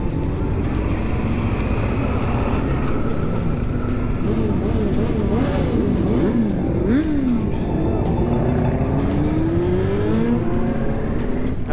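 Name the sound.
motorcycles at Vilnius bikers' season opening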